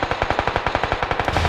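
Rapid automatic gunfire in the battle royale game PUBG Lite on the Sanhok map, a steady stream of sharp, evenly spaced shots firing loud and close for the whole stretch with no talk.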